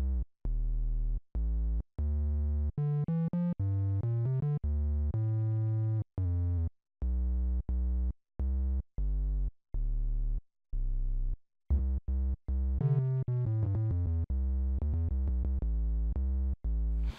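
Triangle-wave tones from a Sequential Prophet 5 synthesizer play alone, a run of separate held notes that start and stop and climb and fall in pitch, each note clear and steady with a slight edge.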